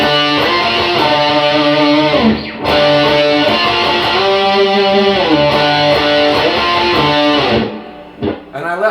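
Electric guitar plays the basic octave notes of a song, with a distorted tone and no delay repeats, ringing loud and sustained phrases that pause briefly before a final stop.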